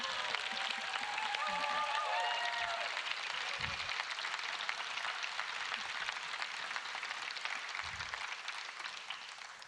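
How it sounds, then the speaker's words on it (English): Sustained audience applause at the close of a climate solutions conference session, a dense wash of many hands clapping at moderate distance, gradually thinning toward the end, with a few faint voices underneath. "I think we can actually keep clapping"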